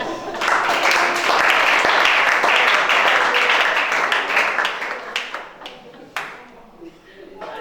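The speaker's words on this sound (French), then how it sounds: "Acclame chacun." A church congregation breaks into loud, dense applause, sustained for several seconds before thinning into scattered claps and a few final taps, with voices mixed in.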